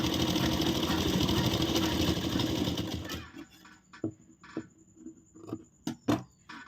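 A sewing machine runs the final stitching on a princess-cut blouse, a dense steady whir for about three seconds, then falls quiet apart from several sharp clicks and knocks of handling.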